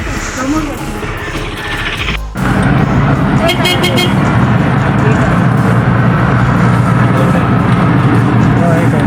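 An auto rickshaw ride through road traffic, with a steady loud engine rumble, passing vehicles and occasional car horns, while people talk over the noise.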